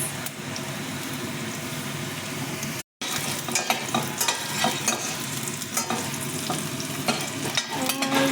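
Garlic sizzles and fries in a pan with onions and ginger while being stirred, a dense, continuous crackling sizzle with scraping stir sounds, close and loud, broken by one brief dropout.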